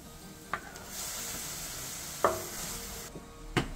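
Food stirs in a disc pan over steady frying sizzle, with a few sharp scrapes and clinks of the utensil against the metal spaced about a second apart.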